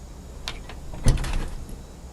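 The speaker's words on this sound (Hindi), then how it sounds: "खोल दरवाजा" A door being opened in a house, a couple of light clicks of the latch followed by a firm close knock and brief rattle, short and fairly near.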